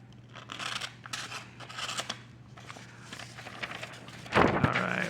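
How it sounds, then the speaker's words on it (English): A brand new Case Russlock pocket knife slices through notebook paper in a run of close, scratchy rasping strokes over a steady low hum, ending with a louder tearing burst. "let's see how well this knife slices through"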